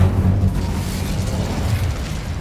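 Incendio fire spell cast in the video game Hogwarts Legacy, a loud, steady whooshing burst of flame with low rumbling body lasting a couple of seconds.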